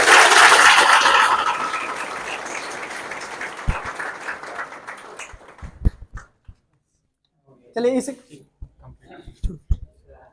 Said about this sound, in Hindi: तो इनके लिए एक बार जोरदार ताली।